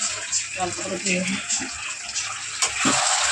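Tap water running into a sink during washing up in a home kitchen, a steady broadband splashing wash that carries on under a woman's speech and clattering dishes.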